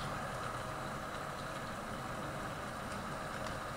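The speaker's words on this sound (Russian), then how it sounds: "Вроде бы и трактор мощный, но тяжело идет." A powerful tractor in Farming Simulator 19 straining as it hauls a heavy trailer loaded with sugar beets, giving a steady, droning engine rumble at even volume throughout, with no talking.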